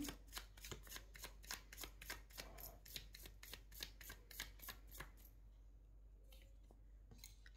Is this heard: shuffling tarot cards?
yes